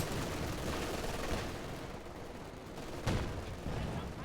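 Anti-tank gun firing during a video game battle in a 4v4 tournament match, a sharp blast near the three-second mark standing out from a dense wash of continuous gunfire and battle noise.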